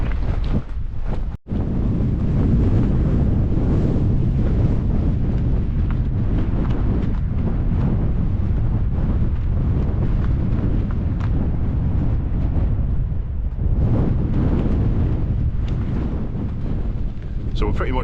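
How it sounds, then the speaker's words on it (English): Strong, blustery wind buffets the microphone on an exposed Lake District fell summit near Rampsgill Head, a loud continuous low roar with gusting swells and one brief dropout. "The wind is a bit less blustery on this side."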